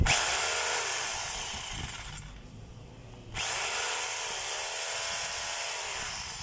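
Power hammer drill running after a field coil repair, a loud steady whine that drops away briefly mid-clip and then starts again at full strength.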